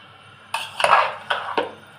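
Fried potatoes stirred into a pot of meat with a spoon, giving several sharp metallic clinks and scrapes against the pot in quick succession, close and fairly loud.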